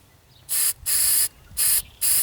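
Four bursts of aerosol rust protection coating hissing onto a Nissan 240SX, each lasting about a quarter to half a second, separated by short pauses with faint wind noise in between.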